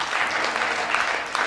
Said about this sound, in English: Why don't we give a clap to the Lord this morning?